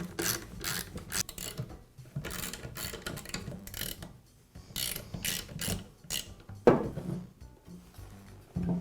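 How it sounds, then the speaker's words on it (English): Screws being backed out of a DeWalt planer motor housing during a head repair, giving irregular ratcheting, clicking metal mechanism sounds with scraping and rubbing, close and moderately loud with no talking. "As you remove the screws, make sure that you support the motor."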